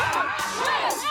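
Crowd of spectators cheering and shouting at a girls' rugby game, a dense burst of young voices yelling together, loud and close, rising and falling over about a second.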